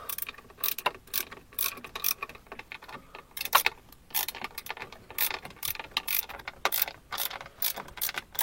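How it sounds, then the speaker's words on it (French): A ratchet clicks rapidly in short repeated bursts while tightening nuts on a camper's ventilated roof vent, close and crisp, with brief pauses between strokes. "Bon allez, j'ai resserré les écrous."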